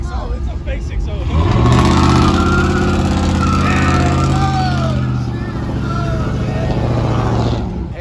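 A truck engine revs hard at a downtown truck meet at night, loud and close, with a steady roaring drone under shouting voices.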